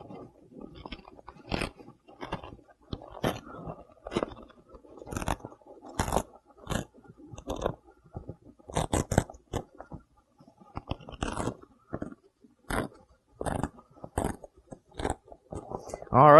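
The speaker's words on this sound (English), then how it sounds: "when you're pulling this Velcro off, make sure you push down on the foam Velcro." Velcro ripped off the foam of a 2000–2002 Chevy driver's bottom seat cushion, crackling in repeated short tearing bursts with pauses between, close up.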